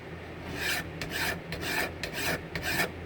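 Rhythmic rasping of a metal file, five or six strokes in a steady back-and-forth pattern, close and alone.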